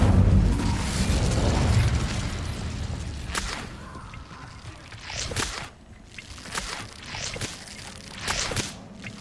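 An Incendio fire spell in Hogwarts Legacy erupts as a loud roaring fiery burst, followed by several sharp whooshes and pops that fade in and out, with no talking.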